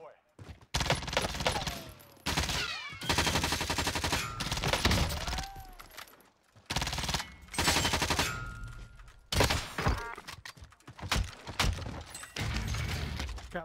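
Sniper shots and bursts of gunfire from Call of Duty Warzone Season 4 crack out in loud, repeated volleys with brief gaps between them, dense and close throughout.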